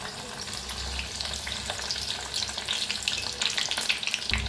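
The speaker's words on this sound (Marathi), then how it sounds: "तर लसूण चांगला भाजा लागलाय." Finely chopped peeled garlic frying in hot oil for a tadka, a steady close sizzle that keeps going for several seconds, with faint stirring and no talking.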